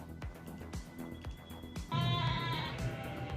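Sheep bleat several times in quick succession, nearby and fairly clear, with a louder, longer bleat near the end rising over faint background noise.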